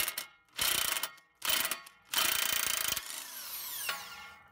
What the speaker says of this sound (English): Next, we'll take an 18 millimeter socket.